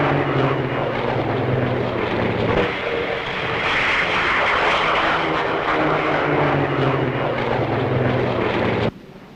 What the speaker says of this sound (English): Next, the Meteor Mark IV takes off.